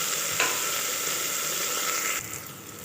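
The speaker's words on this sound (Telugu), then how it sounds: "ఇప్పుడు ఈ మటన్ అంతా ఇందులో వేసేసుకోవాలి." Mutton curry sizzles steadily in a pan while it is stirred, with a scrape near the start and a drop in the hiss toward the end as the stirring settles.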